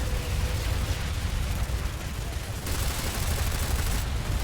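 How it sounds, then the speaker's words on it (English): Weapon fire during a PlanetSide 2 battle as a rocket is launched, a dense steady barrage of gunshots and blasts with a sharp change in texture partway through, loud and continuous with no voice over it. "See if I can launch a rocket off at something."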